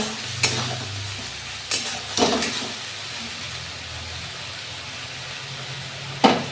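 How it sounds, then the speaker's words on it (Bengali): Ginger garlic paste sizzles steadily in a pan of hot oil as fish curry is made, and a spoon stirs it with a few scraping clinks. The frying hiss stays constant throughout, close by and moderately loud. "আদা রসুনের পেস্টটা দিয়ে আমি আবারও ভালোভাবে নেড়ে চেড়ে এটা কুক করে নেব"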